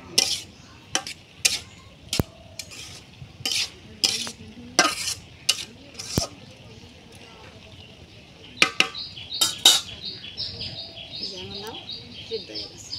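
Greens are tossed and stirred in a pan, giving a run of sharp, irregular scraping clacks up close with a faint sizzle beneath, and high chirping bird calls in the background toward the end.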